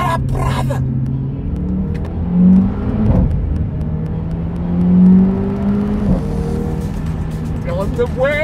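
A Mercedes-Benz CLA 45 AMG in Race mode accelerates in repeated surges, its engine note rising and falling loudly from inside the car, with excited talk over the engine.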